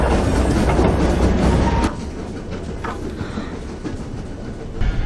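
A train runs along rails during a film escape scene, a loud rumbling wash for about two seconds that drops to a quieter, steady rolling rumble with faint rattles and no speech.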